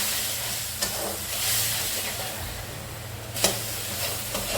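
Spices and turmeric sautéed in a pan give a low, steady sizzle, broken by a couple of sharper spatula scrapes against the metal.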